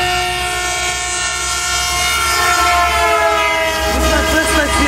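Loud, sustained train horn, distinct from a Metrolink horn, sounding steadily near at hand over the rumble of a passing train, with rising tones toward the end.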